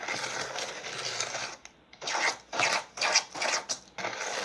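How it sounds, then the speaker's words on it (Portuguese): Fine sieved sand and cement mortar being mixed by hand, giving rhythmic rasping, scraping strokes close by, with a short pause partway through and no talk. "aqui é misturar a massa"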